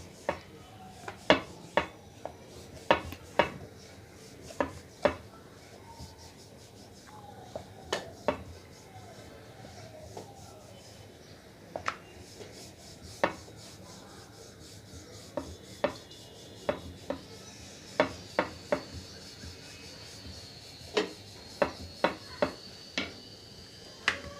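Thin sanjachi poli dough being rolled out lightly with a rolling pin, heard as a series of sharp, irregular knocks and taps over a quiet rubbing background, close and without talking.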